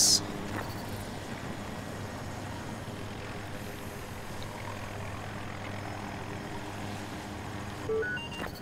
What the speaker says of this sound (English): Attack chopper coming on your area.